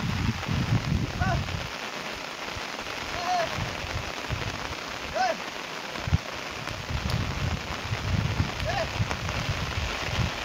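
Steady rain falling on a freshly sown farm field of pigeon pea, a continuous hiss of drops hitting wet soil and leaves, with faint chirps and a few brief knocks above it.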